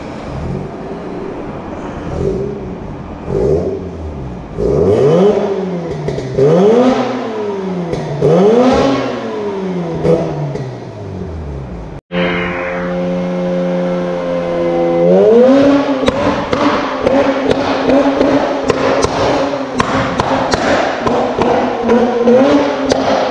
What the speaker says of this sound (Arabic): هنسمعكم صوت الاكزوز